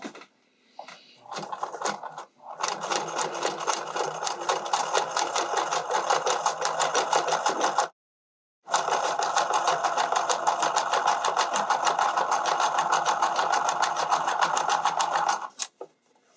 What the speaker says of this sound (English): you're going to be stitching through the 2 layers of foam and the base below it